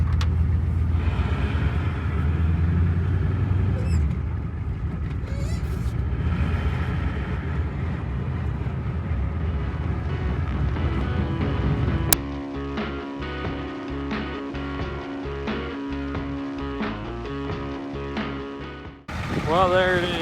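A 1996 Ford F350 crew cab with a 7.3 diesel drives down the road, its engine and road rumble loud and steady throughout, with a sharp shift midway to a choppier, pulsing drone.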